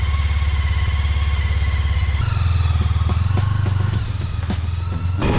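An old sport touring motorcycle with a steady, loud, throbbing engine that rises in pitch as it pulls away, with clattering and rattles over the running engine and no voices.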